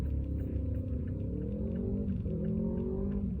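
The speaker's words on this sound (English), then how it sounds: "Oh, there's a motorcycle. That sounds like a Yamaha." A Yamaha sport motorcycle engine drones steadily nearby, its pitch rising and falling as it revs and passes, with no voices.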